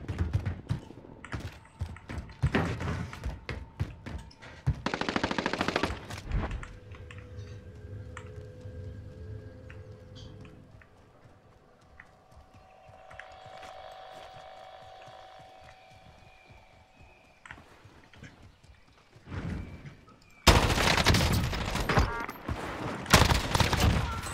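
XM4 rifle fire in Call of Duty Warzone comes in loud rapid bursts at the start and again near the end, with a quieter stretch of footsteps and game ambience in between.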